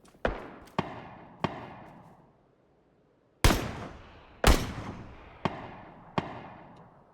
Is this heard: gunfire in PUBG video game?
yes